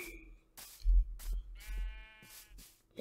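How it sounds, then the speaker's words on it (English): Minecraft sheep bleating in a short wavering burst mid-clip, with a quieter bleat-like call near the start, over faint background game noise. "Sheep."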